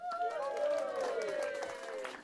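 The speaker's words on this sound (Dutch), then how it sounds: "Maar een applaus voor jullie zelf!" Audience applause, sustained clapping from a crowd with a voice or tone sliding through it, steady and moderately loud for the whole stretch.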